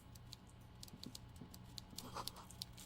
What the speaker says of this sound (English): I hear your typewriter